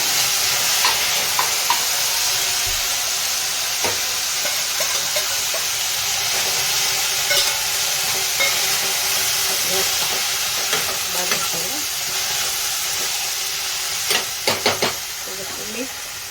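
Drumstick leaves fry with reddened garlic in a hot pan, giving a constant close sizzle and hiss. A spoon scrapes and clinks against the pan now and then. A voice is heard faintly.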